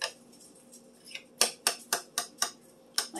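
Crockpot stuffed shells being cut on a plate like lasagna, about eight short crisp scraping clicks of utensil against the plate in an irregular rhythm, close and fairly clear.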